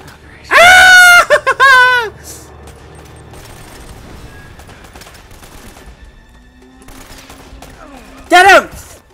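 Gunfire in the action-adventure video game Uncharted: Drake's Fortune pops and rattles in scattered bursts beneath loud excited shouting from a player at the start and end.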